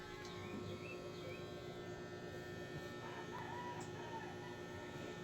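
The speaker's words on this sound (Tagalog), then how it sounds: "Ayan po ang huni ng ibon oh." Birds chirp and call intermittently over a steady background hum, with a rooster-like fowl sound among the calls, moderately distant.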